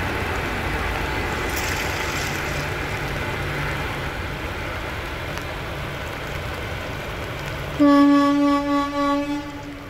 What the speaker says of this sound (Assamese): বিপজ্জনকভাৱে চলাচল কৰিছে এইখনৰ পিছত সিখনকৈ ৰেল